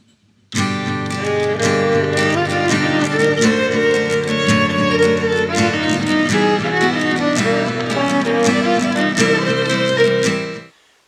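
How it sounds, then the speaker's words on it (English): A dense, clashing run of instrumental notes played over steady sustained chords, continuous for about ten seconds with no talking. "just randomly playing anything over a chord progression"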